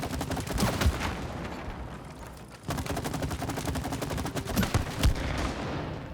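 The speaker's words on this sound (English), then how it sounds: "Look, Cody. Shooting targets." Rapid automatic gunfire at a shooting-target practice range in the video game It Takes Two, loud and continuous bursts filling the clip with a brief pause partway through.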